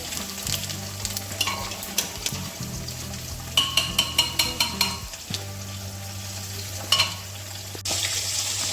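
Cumin seeds hit hot oil that already holds dried red chillies and bay leaves, giving a loud, steady sizzle broken by sharp crackles and the clatter of a stirring spoon.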